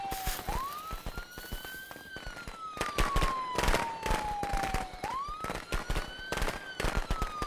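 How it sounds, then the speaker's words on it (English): Rapid crackling fireworks in the video game Friday the 13th pop and burst continuously over a wailing siren that rises and falls in the background. "I got fireworks right now."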